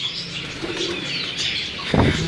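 Red-eyed pigeons coo softly and steadily over a busy loft background, with a louder, lower burst of cooing near the end; the sound is close and continuous.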